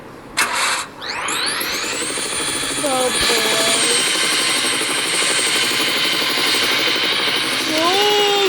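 A helicopter in a video game has its engine start with a sharp click and a rising whine, then settles into a loud steady turbine drone with rotor hum that lasts to the end. Someone speaks briefly over it.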